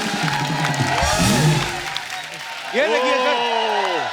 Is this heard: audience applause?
yes